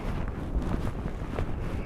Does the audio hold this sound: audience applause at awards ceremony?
no